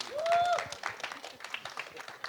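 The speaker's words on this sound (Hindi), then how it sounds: "एक बार पाजी के लिए एक बार तालियां हो जाए." Audience applause breaks out at a film trailer launch event for Jatt and Juliet 3, a burst of clapping mixed with a bright whistle or cheer at the start, fairly close and busy for about two seconds.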